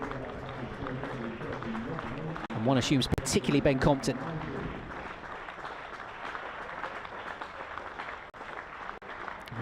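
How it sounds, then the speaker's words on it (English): A cricket crowd applauds the two Kent batters as they leave the field. A burst of clapping rises for about a second and a half before fading under a commentator's voice. "let's listen to the applause for the two Kent batters"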